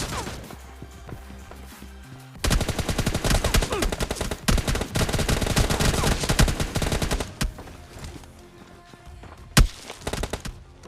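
Bursts of gunfire in the PUBG Mobile Lite battle royale game, dense rapid automatic fire in long loud stretches with a few single heavy shots, including a shotgun, and brief pauses between.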